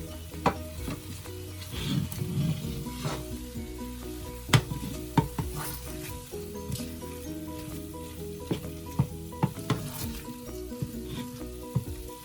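Beef and broccoli stir-frying in a pan, a steady close sizzle broken by repeated scraping and clanking stirs from a utensil, with no talk.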